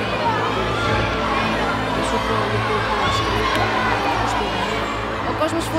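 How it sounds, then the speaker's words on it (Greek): A live studio audience at a televised singing talent contest shouts, cheers and whoops over a dense, continuous crowd roar, with overlapping voices and occasional sharper cries standing out. "Ο κόσμος φωνάζει διάφορα."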